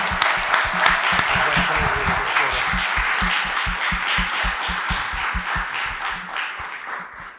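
A college audience applauds a biomedical lecturer with continuous, fairly distant clapping that holds steady throughout and softens slightly at the end.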